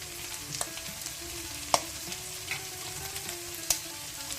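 Pork pepper fry cooking in a pan, a steady close sizzle of frying meat with a few sharp clicks of a spoon stirring against the pan, moderately loud and without any talking.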